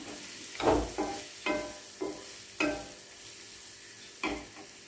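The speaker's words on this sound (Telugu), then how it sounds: "అట్లనే పసుపు కూడా వేసుకోవాలి ఇదంతా ఒకసారి కలబెడదాం" Turmeric stirred into a sizzling pan of sour gongura-leaf curry, with about six distinct scraping stirs spaced through a steady low frying hiss, close and moderately quiet with no talking.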